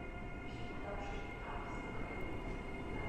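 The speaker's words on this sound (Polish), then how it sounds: "pociąg międzynarodowy z husarzem na czele" An international train hauled by an EU44 Husarz electric locomotive arrives slowly at Warszawa Zachodnia station after dark, a steady rumbling roll of wheels and wagons with a faint high whine throughout.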